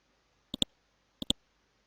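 Two quick double clicks of the F4 key on a computer keyboard during spreadsheet work, each a crisp pair of close taps, the second pair coming about two-thirds of a second after the first, near and isolated in a quiet room.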